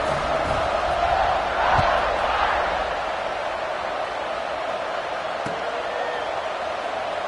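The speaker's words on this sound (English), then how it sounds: "this crowd is feeling themselves after that last drive" A football stadium crowd roars at kickoff, a broad, distant wall of cheering that swells early and then settles into a steady murmur, with a couple of sharp thuds and a commentator's voice over it.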